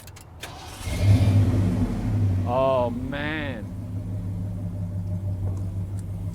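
A car engine with a brand new aftermarket carburetor idles with a steady low rumble, then revs up twice in quick succession before settling back; someone speaks briefly over it.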